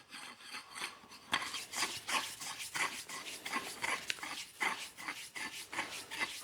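A disassembled woodworking clamp being put back together, giving repeated rubbing, rasping and scraping strokes of metal and wood at close range in an irregular rhythm, with no talking.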